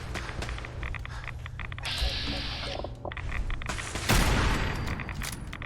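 Gunfire in the video game Fallout 4, rapid bursts of shots and booms with game effects, dense and loud over steady background music, with a voice talking during the clip.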